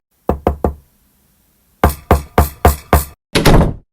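Knuckles rap on a door: a quick group of three knocks, a pause, then five sharper knocks and a final heavier thump, close and loud with nobody speaking.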